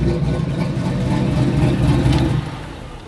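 Buick Regal engine with an old hydraulic roller cam revving, a close, throaty rumble that holds steady and then eases off in the last second.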